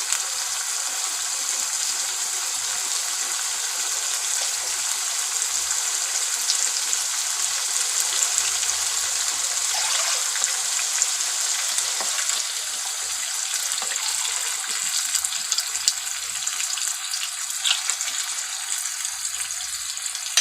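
Continuous bubbling and sizzling from a pot of beetroot mutton curry on the stove just after two glasses of water are added, close and steady, with a few faint clinks and no talking.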